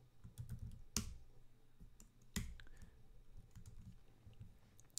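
A few keystrokes clatter on a computer keyboard while a folder name is entered, crisp close clicks spread irregularly with two sharper presses standing out, no voices.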